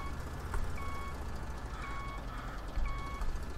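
A farm vehicle backs up in Expert Farmer 2016, its reversing alarm giving three evenly spaced electronic beeps over a steady low engine drone, with no talking.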